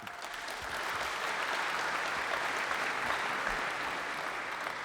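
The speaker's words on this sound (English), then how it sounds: "they clap for my things too sometimes" A live Arsenal podcast audience at Union Chapel in London breaks into steady applause, a dense sustained clapping from the crowd lasting several seconds with no one speaking over it.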